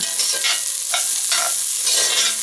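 Minced jalapenos and garlic stirred into rice frying in a pan over medium heat, a continuous sizzle with repeated scraping strokes of the stirring utensil, close and loud.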